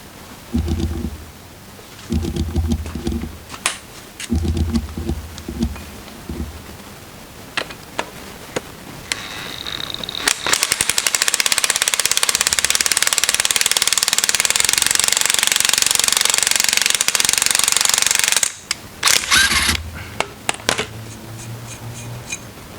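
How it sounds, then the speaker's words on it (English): An impact gun drives a nut on the rear differential of a 1986.5–1992 MK3 Toyota Supra. Short bursts of clicking and rattling work come first, then a long, loud, continuous hammering whir, and after that a few more brief rattles. "And then I'm gonna use the impact gun."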